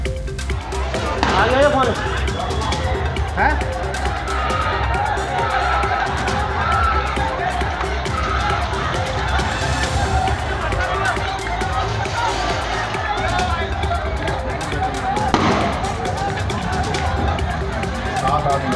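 Dense, loud crowd hubbub at a police station riot, with many overlapping shouting voices, a few sharp knocks and bangs standing out over steady crowd noise for the whole stretch.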